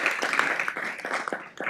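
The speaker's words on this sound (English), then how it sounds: "Give him a round of applause." Audience applause at a city council meeting: a brief burst of dense, steady clapping from many people in a room, moderately loud and continuous throughout, with no talking over it.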